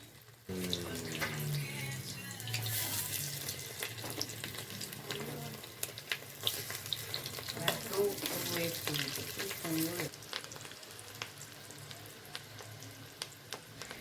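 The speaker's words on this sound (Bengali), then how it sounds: "গরম হয়ে গেলে মিডিয়াম ফ্লেমে আপনাকে ছোট ছোট আকারে এইভাবে ভেজে নিতে হবে" Small fish egg pakoras fry in hot mustard oil over a medium flame, a continuous crackling sizzle close to the pan with a few clinks and scrapes scattered through it.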